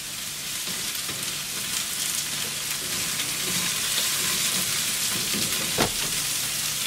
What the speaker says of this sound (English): check your carrots have got a beautiful little sizzle and give them a turn.